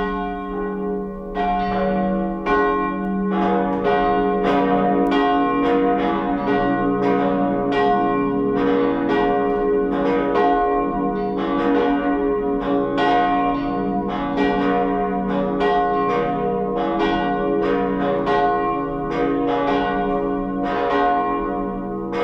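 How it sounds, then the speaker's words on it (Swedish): Cathedral church bells ring in a full, continuous peal, loud and steady with overlapping strikes throughout, and no voices. "Låt oss nu lyssna till klockringningen."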